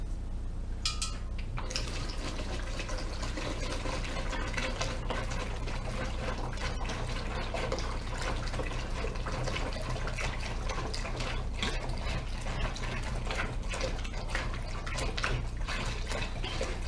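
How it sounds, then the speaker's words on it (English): Cold water streams steadily into a Mr. Beer fermenter, making a continuous, moderately quiet rushing and splashing sound that starts after a brief clink. "We're going to fill up our fermenter with a gallon of cold water."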